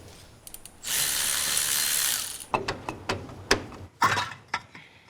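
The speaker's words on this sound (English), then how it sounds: "All right, I'll pull the axles out of this thing." Ratchet tools work on the rear axles of a 440 Dodge Dart. A fast continuous ratchet buzz is followed by a series of separate sharp clicks and clanks, close and loud, with no talk.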